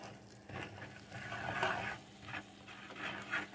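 A small wooden spoon stirring flour in a pan, making soft irregular scraping and patting strokes with a faint sizzle, quiet and close, with no one talking.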